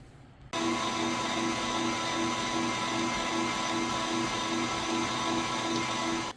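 Electric stand mixer running steadily while combining German chocolate cheesecake filling, a loud, even whirring hum that starts abruptly and continues for about six seconds close by, with no talking.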